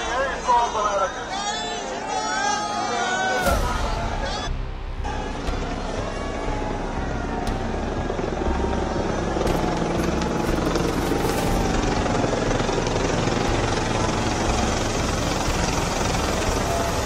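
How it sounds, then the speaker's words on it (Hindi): A helicopter flies over the Ram temple in Ayodhya, its steady rotor roar loud and continuous throughout, with a faint hubbub of crowd noise underneath. "जब सीएम योगी हेलीकॉप्टर से ही निरीक्षण कर रहे थे"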